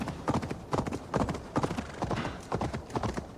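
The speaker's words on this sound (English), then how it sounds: "Horse is gonna do all the running for me." In Assassin's Creed Valhalla, a horse's hooves pound along a road in a quick, repeating galloping rhythm. The hoofbeats sound close and clear, with no talking over them.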